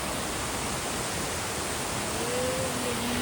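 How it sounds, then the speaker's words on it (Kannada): A waterfall in Goa produces a constant, dense rushing roar of falling water, steady and enveloping throughout with no distinct breaks. "ಸಿ ಇಲ್ಲಿ ಫಾಲ್ಸ್ ಇದೆ."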